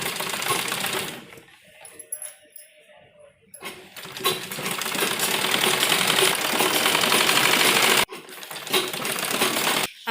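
A sewing machine stitches an Afghani salwar while shaping a 6-inch leg opening, a fast, clattering mechanical run in long bursts with a short pause partway through, close and fairly loud.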